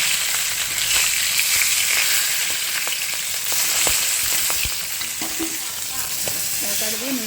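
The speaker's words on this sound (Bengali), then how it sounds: "আর এদিকে মাছটা ভেজে নিচ্ছি।" Fish sizzling as it fries in a pan, a steady dense crackle of hot oil with occasional sharper pops and stirring clicks throughout, close and continuous with no voices.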